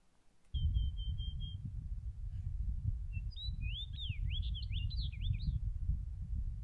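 A bird sings a clear, sweet whistled note from scrub brush along Mill Creek Road at Big Bear Lake, then a quick series of warbling whistles, heard over a steady low rumble.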